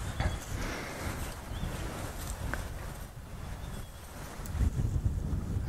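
Gusts of wind buffet the microphone outdoors on a warm African evening, a rough low rumbling roar that rises and falls throughout, strongest at the start and again near the end.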